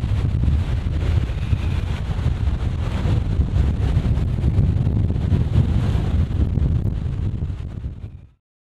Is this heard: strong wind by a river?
yes